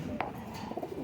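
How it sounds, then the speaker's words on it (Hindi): Faqeer Gul pigeons for sale: a faint, low cooing from a pigeon sounds briefly and close by in a quiet setting. "ये देखें दोस्तों, ये दूसरा कबूतर है।"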